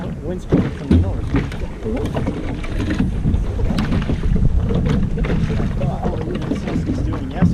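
Wind buffeting a sailboat on open water, a steady roar and rumble of gusts against the microphone running throughout, with people talking over it.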